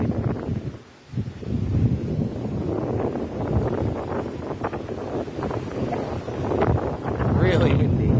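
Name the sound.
wind blowing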